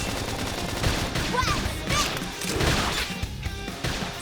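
Dense, rapid gunfire in Xenoblade Chronicles X crackles continuously alongside explosive bursts and impacts, loud and close, with no pauses.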